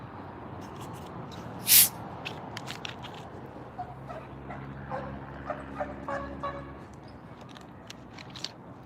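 A dog whimpers and yips faintly while tugging, with scattered small squeaks and rustles over quiet outdoor background noise and one brief sharp burst early on.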